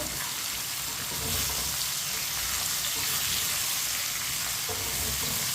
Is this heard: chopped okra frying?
yes